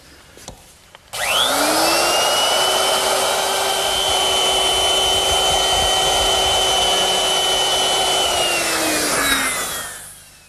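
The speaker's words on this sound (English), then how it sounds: "And to do that, I'm going to use my router. And I've set it up with a 1/4-inch rounding over bit." A woodworking router fitted with a quarter-inch round-over bit eases the edge of a rail for a Shaker wall clock. Its loud, steady motor whine spins up sharply, holds for about nine seconds and then winds down, with no talk.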